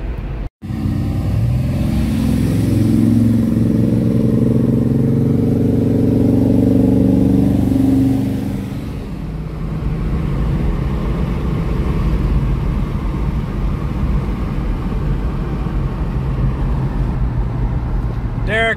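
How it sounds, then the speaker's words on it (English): An old hot rod truck at Nashville Super Speedway, heard from inside, holds a loud sustained full-throttle engine roar that climbs in pitch, then eases to a lower steady drone with road and wind noise. "Little old truck still got it. No drama at all. Right foot down, point it straight."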